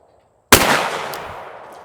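A single shotgun blast at a clay target on a shooting range: one loud, sharp report that rolls away in a long, fading echo.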